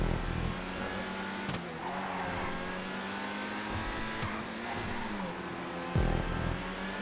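Race car engine in GTA driving under steady load, a continuous close drone with tyre noise and small bumps, no talk.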